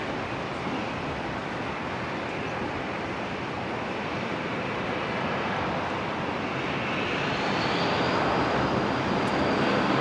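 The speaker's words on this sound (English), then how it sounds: "737-800 arriving and one heading out." Boeing 737-800 jet airliner arriving at Brisbane Airport, a steady broadband engine roar that builds gradually louder over the clip with a faint rising whine near the end, heard alone without voices.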